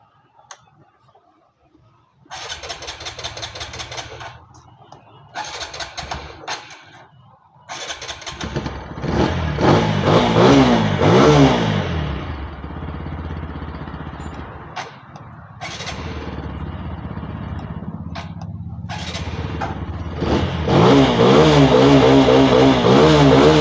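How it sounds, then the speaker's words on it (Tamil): A vehicle engine turns over on its self-starter after a new battery is fitted, cranking in short bursts then catching and running loudly with revving, close by and without speech. "இப்போ நம்ம செல்ஃப் போட்டு ஸ்டார்ட் பண்ணி பார்ப்போம்."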